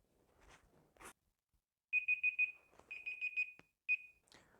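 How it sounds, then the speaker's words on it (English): A darkroom exposure timer sounds its alarm after a camera enlargement exposure, sending out bursts of rapid high-pitched beeps in quick groups with short pauses between them, amid faint handling noises. "Okay, so the timer's just finished."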